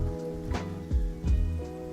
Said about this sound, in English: I also think I'm going to turn the rain sounds down a little bit.